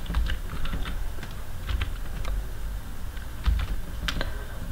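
Someone types C code on a computer keyboard, producing close, steady clicking keystrokes in uneven bursts with no voice.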